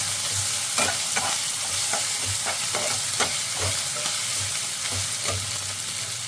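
Ginger garlic paste fries in a pan for a chicken roll filling, a steady hiss of sizzling broken by repeated scrapes and taps of a spoon stirring against the metal, close and continuous with no talk.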